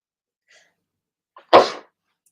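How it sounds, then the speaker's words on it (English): A single sharp human sneeze, close and loud, preceded by a brief faint inhale and dying away quickly into silence. "I feel like I'm going to sneeze."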